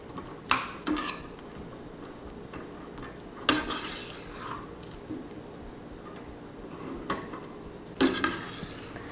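A simmering sauce in a pot being stirred, with a few sharp spoon knocks and scrapes against the pot spaced over a soft, steady bubbling background, no talk.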